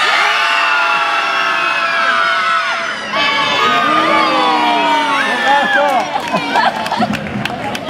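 A circus audience at an outdoor show in Polignano a Mare shouts loudly together on cue, a dense, sustained roar of adult and children's voices with whoops and cheers that swell and stay near for the whole stretch.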